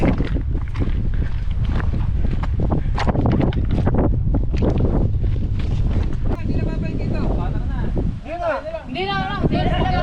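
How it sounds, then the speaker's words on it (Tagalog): Steady wind buffets the microphone in a dense, continuous roar, with voices talking over it throughout. "Ngayon, mahangin."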